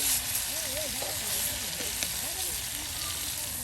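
Large pieces of pangas fish fry in oil with a steady, dense sizzle and hiss throughout, while a person talks over it.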